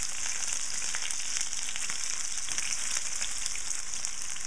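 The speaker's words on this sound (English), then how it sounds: "I'm going to put it right into the olive oil. You want to get a nice sizzle." A breaded Greek-style chicken cutlet sizzles in olive oil in a pan, a steady, bright crackling fry that holds evenly throughout with no voices.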